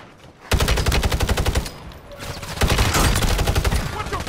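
Automatic gunfire in Call of Duty: Warzone on Ashika Island, two rapid sustained bursts of loud rattling shots separated by a short pause, close and dominant, no talking.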